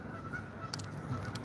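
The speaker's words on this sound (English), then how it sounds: "I know you guys can hear the geese." Geese honk at a park lake during carp fishing, with several sharp calls over steady wind noise outdoors.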